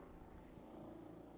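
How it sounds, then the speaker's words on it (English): A helicopter flies over a cricket ground at the Jamaica Defence Force grounds, heard as a faint, steady distant rotor and engine drone with no other sounds. "As we look at the helicopter flying over the ground here"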